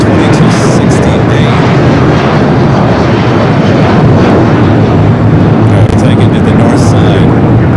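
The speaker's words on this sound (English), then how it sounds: "we do have the United 757 to 300 rolling down at 25 right" United Boeing 757-300 jet rolling down runway 25 right for takeoff at LAX, a loud continuous engine roar throughout, with a radio voice speaking briefly over it.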